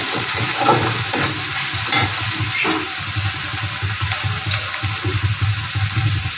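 Chela fish masala with chilli powder and salt sautéing in a pan, a steady sizzle broken by repeated scraping stirs, with a faint watery splash toward the end.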